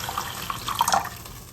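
Water poured into a pot with sugar for a syrup, a short soft splashing trickle that swells briefly near the middle and then fades.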